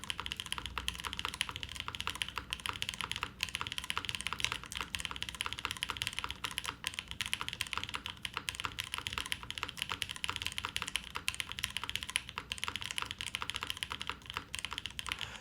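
Typing on a mechanical keyboard with an aluminum plate, Tadpole Mount and a tuned, deep-sounding spacebar, heard as a steady, dense run of close clacks and keystrokes with no talking.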